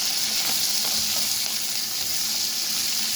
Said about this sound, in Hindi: अब थोड़ा सा उसको हिला देंगे